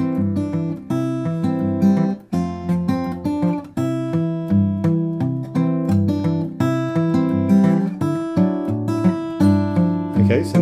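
An acoustic guitar is Travis picked with a steady alternating bass and syncopated melody notes placed before and after the bass. The playing is loud, close and continuous, with no voice over it.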